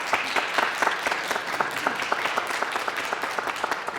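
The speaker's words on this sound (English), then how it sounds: "So Clelia, a big round of applause, please." Audience applauding a performer at the end of an evening show, a steady dense round of clapping filling the room at moderate loudness throughout with no talk over it.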